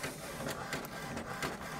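An HP DeskJet 2827e printer printing a document hums steadily with repeated whirring pulses as the print head carriage moves back and forth, with no talking.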